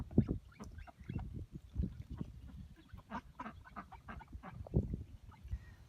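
Farm ducks near a newly built duck door and run in central Texas, quacking repeatedly and close by, with several overlapping calls in irregular bursts.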